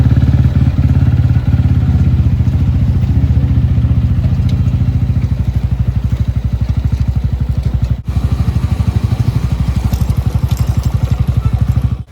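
A motorcycle engine idles steadily with a low, rapid putter as it is parked on a university campus, close by and loud, briefly dipping once before continuing.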